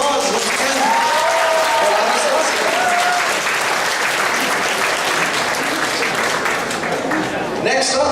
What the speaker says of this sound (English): We'll give him a big round of applause once again.